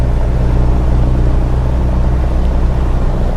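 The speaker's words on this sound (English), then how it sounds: "Then you want to rev the engine up to around 1800 to 2000 RPMs" Aircraft engine in a flight simulator game revved to about 1800 RPM, a loud steady droning rumble that holds constant throughout.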